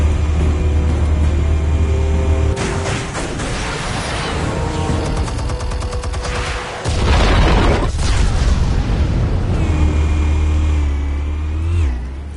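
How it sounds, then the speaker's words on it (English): Explosives go off in a Batman game: heavy booming blasts with rumbling low end, crackling debris and a mechanical whine, loud and continuous with a sharp surge midway. "Explosives armed. Fire when ready."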